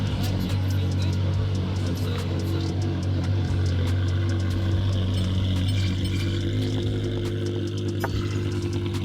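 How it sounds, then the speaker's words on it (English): A car engine idles with a loud exhaust, a steady low droning hum with faint mechanical rattles beneath, continuous and close, while scattered game sound effects and faint voices play over it. "this exhaust is so much louder"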